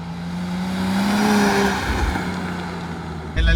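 A Nissan 350Z drives with its engine humming steadily and tires rolling, the drone loud and continuous; after three seconds a louder thump or gust cuts in.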